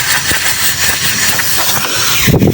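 Refrigerant gas hisses steadily out of a hose from an opened valve while an inverter air conditioner is purged during installation, a continuous broadband rush that swells louder near the end.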